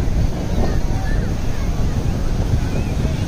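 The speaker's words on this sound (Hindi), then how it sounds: "ठंडी हवा चल रही है बिल्कुल।" Cool wind blows hard across the microphone outdoors during a bike ride, a dense, constant rumbling buffet that swamps everything else.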